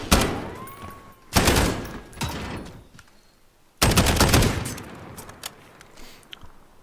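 A gun with attachments firing in Call of Duty, two loud bursts of rapid automatic shots separated by gaps, each trailing off into a decaying echo, with no voices.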